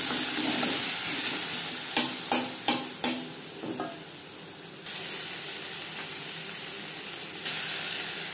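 Ginger paste and green chili paste fry with bay leaf and five-spice in oil for a vegetarian potato, pointed gourd and paneer curry, a steady close sizzle broken by a few sharp stirring knocks early on.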